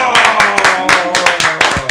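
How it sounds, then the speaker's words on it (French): Several people clap hard and close together in quick, uneven bursts for about two seconds, with a voice talking over them in an excited room. "Et ça s'applaudit fort."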